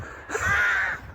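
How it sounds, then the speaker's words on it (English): A single crow caws once, loud and close, a harsh drawn-out call on a quiet morning walk along a countryside track. "The crows are crowing."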